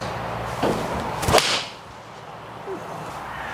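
A single sharp crack of a forged golf iron striking the ball, preceded by a quick swish of the swing, then quiet.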